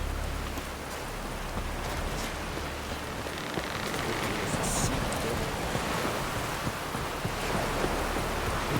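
Steady rain pours across the Skellige isles in The Witcher 3: Wild Hunt, a dense continuous hiss of falling water that holds evenly throughout with no voices over it.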